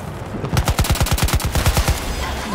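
A turret machine gun in the shooter Battlefield 2042 rattles off one sustained burst of about fifteen rapid, evenly spaced heavy rounds, loud and fairly close, then cuts off abruptly.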